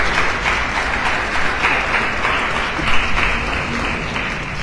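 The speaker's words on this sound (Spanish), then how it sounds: "Voy a pedir un aplauso para los 3 ponentes" An audience at a poetry and psychology panel discussion gives a dense, sustained round of applause for three speakers, loud and continuous throughout, with no voices audible above it.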